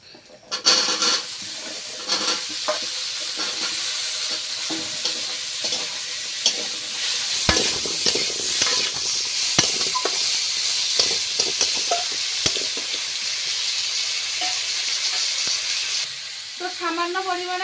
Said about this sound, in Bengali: তো এবার তরকারিটা দিয়ে দিচ্ছি